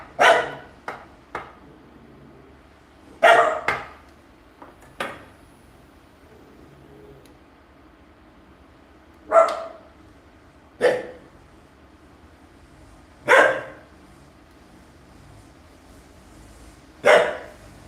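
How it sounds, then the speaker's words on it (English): Dogs bark at an arriving yard boy in short separate bursts, several sharp barks spaced a few seconds apart, fairly near, with quiet gaps between. "There's gonna be some barking."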